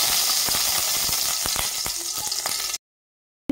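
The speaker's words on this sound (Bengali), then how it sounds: "একটা কড়াই বসিয়ে দিয়েছি, দিয়ে দেবো 1 চামচ ঘি" A spoonful of ghee melting in a hot kadai gives a steady, loud, close sizzle with faint crackles and pops, cutting off abruptly near the end.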